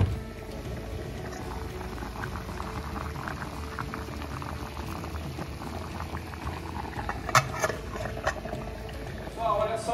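A covered pot of yam and beef stew bubbling steadily, a continuous close simmering hiss with a few brief clinks near the end.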